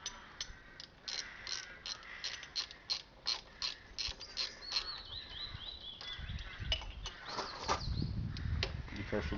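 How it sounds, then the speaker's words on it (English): A spanner works 14mm engine bolts out of a Honda 125 motorcycle, giving steady ratcheting metallic clicks and creaks in a rapid rhythm, close up, with low thuds and scraping toward the end. "Put a spanner on the far side and take them out."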